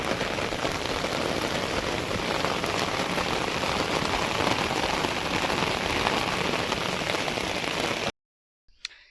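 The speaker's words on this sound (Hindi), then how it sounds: "मैंने छाता का रख रखा है तो छाते की आवाज़ आ रही है" Heavy rain drums steadily on an umbrella outdoors in the hills, a dense close patter that cuts off abruptly near the end, followed by near silence.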